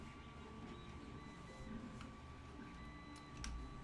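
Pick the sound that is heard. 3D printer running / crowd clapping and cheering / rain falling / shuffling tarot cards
3D printer running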